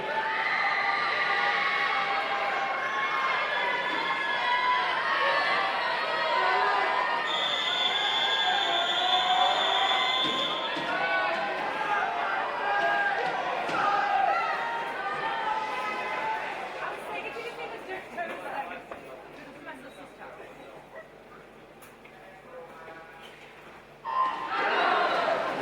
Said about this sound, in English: Lots of cheering going on for this one